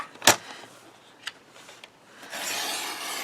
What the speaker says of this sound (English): And I want to cut a 1/2 inch off this piece here.